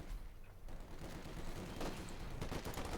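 MG-42 machine gun fire in the video game Company of Heroes 2, dense bursts of gunfire and battle noise running continuously.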